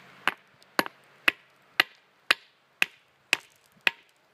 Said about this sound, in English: We'll just keep on hammering and I'll see.